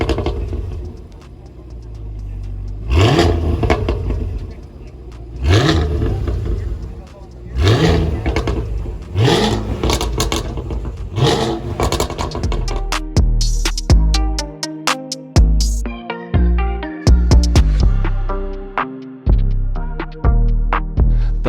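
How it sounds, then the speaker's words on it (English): A supercharged Cadillac V8 race car engine blips in several loud revs, then climbs and shifts through rising, stepped tones at a Laguna Seca IMSA race weekend, close and dominant over crowd ambience. "revving that supercharged"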